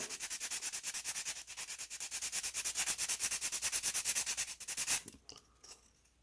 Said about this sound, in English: I'm going to take this emery board and I'm just really going to file it down